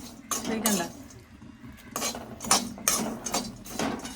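Dry-roasted prawns and peanuts rattling and clinking in a pan, coming in repeated bursts of scraping and tossing with brief pauses between them, close and moderately loud.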